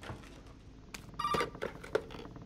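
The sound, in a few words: telephone ringing in video game Resident Evil 7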